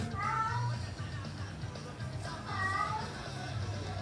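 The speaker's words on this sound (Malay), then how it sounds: "Kucing tu ya." A cat meows twice indoors, soft and slightly distant, with low background noise and no talking over it.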